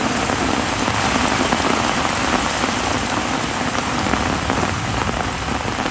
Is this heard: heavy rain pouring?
yes